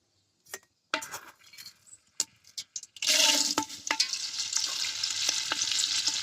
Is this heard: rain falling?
no